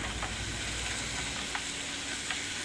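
Chili powder is stirred into a capsicum masala curry in a pan, giving a dense, steady sizzle with a few faint scrapes of a spoon, close and uninterrupted by voices.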